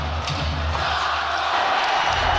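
A basketball arena crowd cheers loudly for the Boston Celtics, a dense continuous roar that fills the whole span with steady intensity and no clear pauses.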